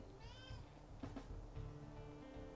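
A pet cat meows nearby, a couple of drawn-out, whiny calls with soft household noise and faint rustling between them.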